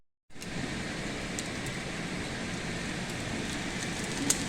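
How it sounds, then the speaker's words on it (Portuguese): Dense, steady hiss of heavy rain and hail pelting a surface in a storm in Braga, Portugal, constant and fairly close, with a few faint sharper ticks mixed in. "Olha o granizo! Tá chovendo granizo, Adriano!"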